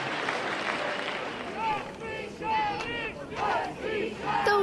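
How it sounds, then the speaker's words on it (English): A large crowd gathers in the streets of Marseille, a dense roar of many voices with rising cheers and shouts swelling in waves, fairly close and loud throughout. "Large crowds gathered in Marseille as a way to pay their respects."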